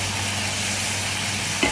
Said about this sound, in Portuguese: Vou dar uma refogadinha.